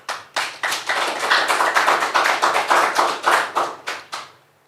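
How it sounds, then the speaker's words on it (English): Applause from a small audience at a football association press meeting in Kumasi, a clear run of distinct hand claps building to a brief cluster and then trailing off near the end. "Can we clap for him?"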